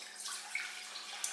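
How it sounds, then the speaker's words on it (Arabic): Half a liter of milk poured into a saucepan, a soft, faint, steady trickle of liquid heard close up. "اولا غادي نوضع نصف لتر من الحليب"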